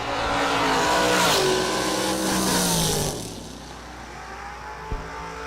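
Drag race cars in a shootout round launch and roar down the strip, a loud engine howl that rises and then fades away into the distance, leaving a faint background with one brief thump.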